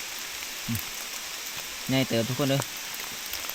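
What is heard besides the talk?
heavy rain falling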